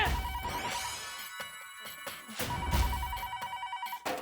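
A phone ringtone chimes in repeated bursts with short gaps between them, loud and close, with no talking over it.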